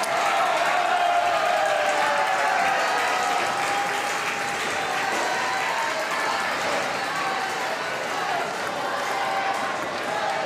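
Steady, sustained applause fills a hall at a wheelchair doubles para table tennis match, with a continuous dense clapping texture and a commentator's voice underneath.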